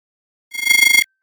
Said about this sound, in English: it's the secret laser that sounds like this real quick